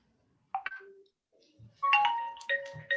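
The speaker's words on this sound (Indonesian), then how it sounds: "Bentar ya, saya terima telepon." A phone ringtone chirps in short, bright melodic bursts, quiet and close, with small gaps between phrases in an otherwise silent room.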